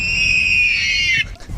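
A truck makes a screaming noise when the driver window is rolled down. A loud, sustained, high-pitched wail holds steady for about a second, then cuts off abruptly.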